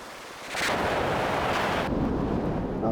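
A missile barrage in a robot combat video game bursts into a dense, rumbling roar of overlapping explosions that swells suddenly and holds loud and continuous, with no voices over it.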